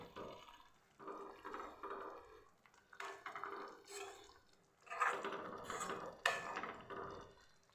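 Chopped tomatoes, two of them cut small, get gently mixed in a pan, making soft wet squelches and scraping stirs in uneven bursts, quiet and close, with no talking.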